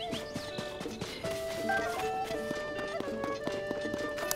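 Horse hooves clip-clopping at a steady gait in The Legend of Zelda: Tears of the Kingdom, running close and clear beneath bright game music.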